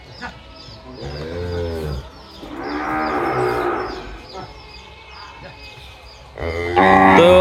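Cows and calves bound for transport from Naogaon to Sylhet moo several times up close, with long, loud, drawn-out calls separated by short pauses and the loudest call at the end.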